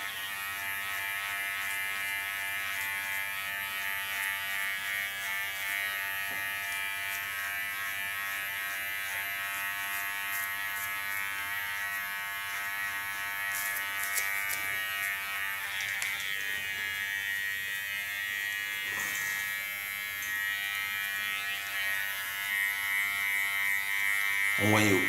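Electric hair clippers buzz steadily and close while cutting a colorful bob hairstyle, the motor drone continuous for the whole stretch with slight shifts as the blades move through the hair.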